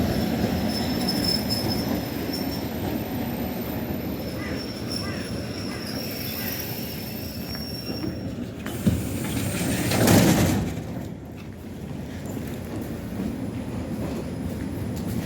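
A Russian suburban commuter train runs with a continuous low rumble of wheels on rails, rising briefly into a louder clatter and squeal before settling again.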